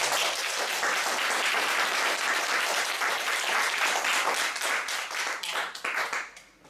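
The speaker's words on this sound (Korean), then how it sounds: "두 분에게 뜨거운 박수를" A high school class in Yeosu, Korea, applauds two students after their lesson, a lively burst of close clapping that holds steady and then thins into scattered claps before fading out.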